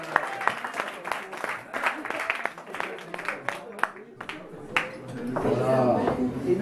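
Scattered hand claps from a small audience, uneven and fairly close, thinning out before a murmur of voices takes over.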